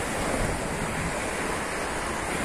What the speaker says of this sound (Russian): под меня прям волна подплыла